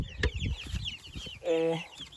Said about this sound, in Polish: klute przez nas kurczaki, maransy, silki, dwie włoski lawendowe i green shell